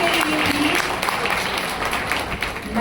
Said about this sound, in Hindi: तो इसी बात पे एक बार और जोरदार तालियां